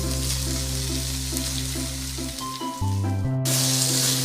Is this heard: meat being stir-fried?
yes